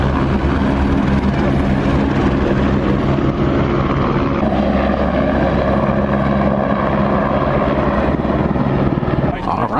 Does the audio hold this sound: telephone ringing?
no